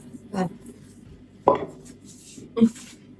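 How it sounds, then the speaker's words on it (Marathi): Three separate knife chops through potatoes on a cutting board, spaced about a second apart, sharp and close in a quiet kitchen. "काप तू बटाट, ते एवढून झालं."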